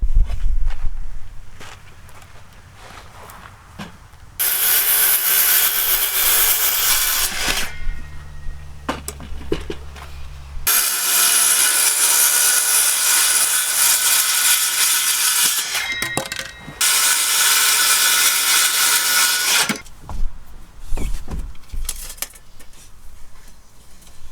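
Saw cutting wooden pieces for a cabinet frame inside a camper van conversion, with long loud sustained sawing passages separated by pauses filled with handling knocks and shuffling, close by and without talking.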